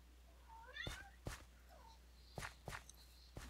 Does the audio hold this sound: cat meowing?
yes